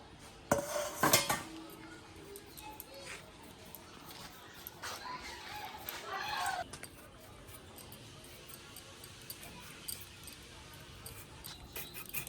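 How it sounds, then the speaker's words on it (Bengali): Potatoes being washed and cut in a home kitchen: a close burst of clattering knife and dish clinks, then quieter handling rustles and sparse light clicks. "আর এখানে আমি এখন আলুগুলো ধুয়ে ভালো করে কেটে নেব।"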